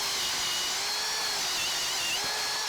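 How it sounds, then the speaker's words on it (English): An Irwin Speedbor paddle bit bores through a treated 4x6 timber, giving a loud, steady high-pitched drilling whine that holds for the whole stretch and then cuts off abruptly at the end. "Super quick going through that treated 4x6."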